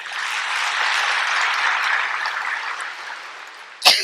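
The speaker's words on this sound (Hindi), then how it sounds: "अपने भाग्य की ताली बजाए।" An audience at a Brahma Kumaris spiritual class claps steadily together, a dense even wash of applause that fades toward the end before a sharp close knock.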